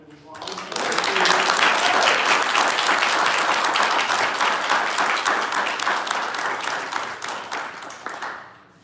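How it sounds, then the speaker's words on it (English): Sustained applause from a meeting audience after a guest science talk on fungi, rising quickly to a full, dense wash of many hands clapping, holding steady for several seconds and thinning out near the end. "Let's all give Grace a round of applause."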